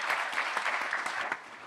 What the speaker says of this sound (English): I think we should give him a round of do a round of applause